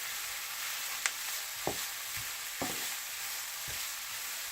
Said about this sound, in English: they're sauteing for about 2 minutes